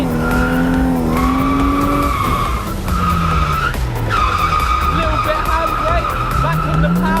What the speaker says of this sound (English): Third gear, clutch, kick and flip.